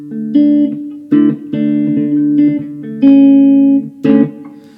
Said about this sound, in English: Let's go back to that more in-your-face spring reverb sound.